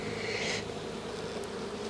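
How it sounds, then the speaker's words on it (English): Honey bees swarm around an opened, syrup-heavy hive during a late-season brood chamber inspection, giving a steady, fairly faint buzz with a brief higher whine near the end. "Oh, there's bees everywhere now."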